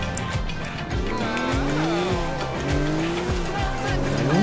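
In the video game GTA 4, a car engine revs and shifts while tires squeal repeatedly during hard driving, loud and continuous, with in-game voices or chatter faintly underneath.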